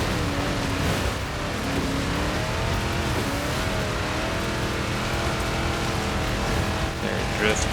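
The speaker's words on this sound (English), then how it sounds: "There it drifts. Nice and controllable drift." Engine drone and tyre noise from a stock 1973 Ford XB Falcon GT drifting in Forza Horizon 4, a steady loud roar with rising and falling pitch that holds throughout, while a voice speaks over it.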